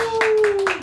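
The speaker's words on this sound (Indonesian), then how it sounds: "tepuk tangan" Hands clapping in a studio for a youth talk show, a few quick, close claps under a steady tone and talk.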